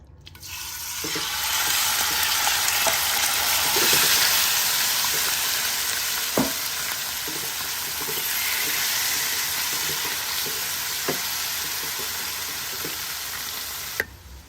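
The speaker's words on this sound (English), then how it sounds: "We're just going to add a little bit of oil, and we're going to add all the meat." Meat sizzling and frying steadily after hitting a very hot oiled pot, a continuous close hiss for the whole stretch with a few sharp clinks of a utensil and no one speaking.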